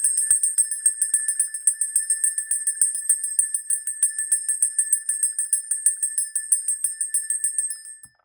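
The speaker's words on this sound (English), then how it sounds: "Let's get the bells going." Small bells jingle in a steady, rapid rhythm, bright and close, continuing for several seconds before stopping abruptly at the end, with no voices.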